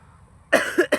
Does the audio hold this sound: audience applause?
no